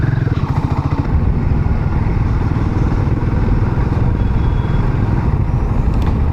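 A motorcycle riding on a highway toward Manali, its engine droning steadily and loudly throughout with constant road and wind rumble, close and continuous without pause.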